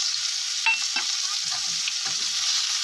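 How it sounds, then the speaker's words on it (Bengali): Chopped onion tossed into hot oil with fried bay leaves and cumin sizzles steadily and loudly, with a few soft clinks and scrapes of a spoon close by and no speech. "এবার আমি কেটে রাখা পেঁয়াজটা দিয়ে দিচ্ছি"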